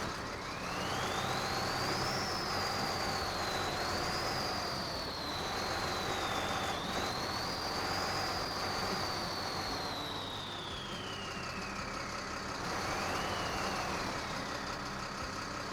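Boss Hog RS Ford F350 with a 5-speed gearbox crawling up a rock climb in Expeditions: A MudRunner Game, its engine droning loud and steady throughout with a whining pitch that rises and falls as the throttle changes.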